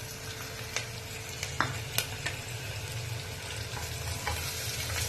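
Onions sizzle in hot oil in a pan for a curry while a utensil stirs them, with soft scrapes and occasional clinks over a constant frying crackle.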